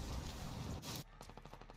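Quiet rapid gunshots in the video game Call of Duty: Warzone crackle in a short burst, several sharp pops in quick succession over a muffled background.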